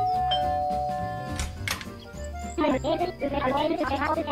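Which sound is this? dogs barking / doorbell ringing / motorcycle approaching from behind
doorbell ringing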